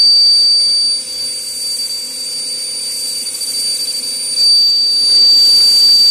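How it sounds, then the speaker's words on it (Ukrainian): A vacuum cleaner roars loud and close, running steadily as it is used to winnow pumpkin seeds, with a slight dip in pitch and level partway through and no talk. "Пилісос."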